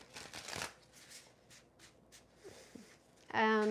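Galactic Star Tarot cards are shuffled in a quick riffling rustle, close and soft, followed by a short louder tonal sound at the end.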